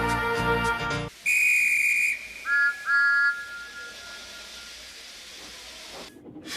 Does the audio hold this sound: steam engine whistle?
yes